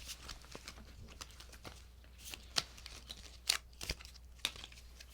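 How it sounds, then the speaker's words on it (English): A deck of tarot cards being shuffled by hand, a series of soft papery riffles and flicks with sharper snaps, quiet and close with no talking. "And I will shuffle the deck."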